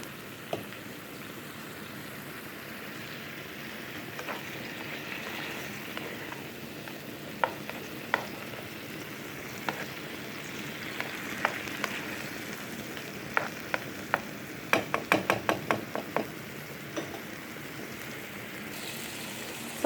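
Eggplant zaalouk sizzles softly in a frying pan while a spoon stirs it, with a steady low crackle and scattered sharp taps of utensil on pan growing busier near the end; no voices.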